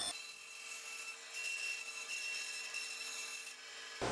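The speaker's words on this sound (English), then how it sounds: "Next, I take the board over to the bandsaw and make the cut," A bandsaw cuts a plywood board for half-blind dovetails, giving a steady raspy hiss over a faint motor hum. It runs for about four seconds before the cut ends.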